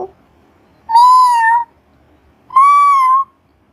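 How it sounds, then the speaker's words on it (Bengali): A cat meows twice, each call a clear, drawn-out tone about a second long, separated by a short pause and heard alone. "বিড়াল ডাকে মিউ মিউ।"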